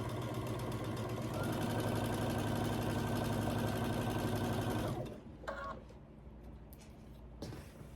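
A sewing machine stitching quilt strips for a signature quilt runs in a fast, steady whirring hum for about five seconds, then stops, leaving quiet handling noises and a few faint clicks.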